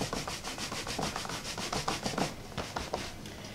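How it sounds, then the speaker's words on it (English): A paper trimmer is slid and moved across a crafting surface during card making, giving a soft, rhythmic rubbing and scraping that repeats steadily at a quiet, close level, with no voices. "I'm going to bring up my trimmer."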